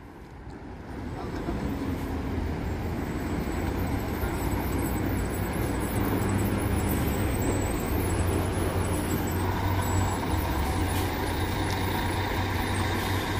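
An Expresso de Prata Vista Bus double-decker coach arrives at the Barra Funda bus terminal in São Paulo, its engine rumbling steadily and growing louder for over ten seconds amid station noise.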